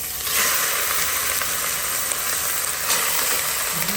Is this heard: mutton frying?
yes